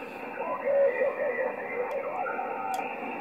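Amateur radio receiver output with steady static interference and hiss, a band-limited noisy hum with faint garbled signal traces running continuously throughout at moderate level.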